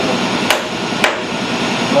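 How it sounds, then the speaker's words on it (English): A hammer gives two sharp taps about half a second apart, seating a part in a vise on a Hurco VMX30i machining center. A steady hum runs underneath. "then we'll smack with a hammer, feed it down"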